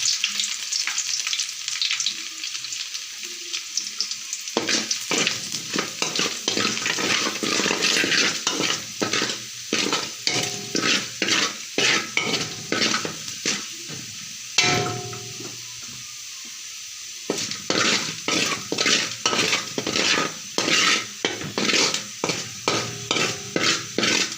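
Cashews and chopped garlic frying in a pan for pudina rice, with a continuous close sizzle and rapid rhythmic scraping of a spatula stirring, briefly quieter mid-way, no talking.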